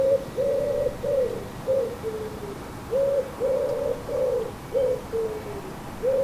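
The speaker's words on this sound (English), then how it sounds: "One of the pigeon parents is calling from the tree." A pigeon parent perched in a tree gives a series of soft, hollow coos in short repeated phrases with brief pauses, moderately near and clear over quiet outdoor background.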